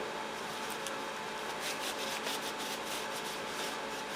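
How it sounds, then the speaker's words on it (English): A rag soaked in lacquer thinner wipes down a part for a homemade overhead-valve Briggs engine, a close, steady rubbing swish with faint repeated strokes, no speech. "I'm just gonna wipe it down with lacquer thinner"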